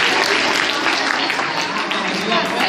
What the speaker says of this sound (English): Clap for the 6th class.